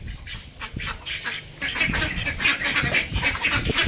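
Ducks quack repeatedly in a noisy farmyard while being fed leftover household food, harsh squawking calls overlapping and growing busier partway through, with no talking.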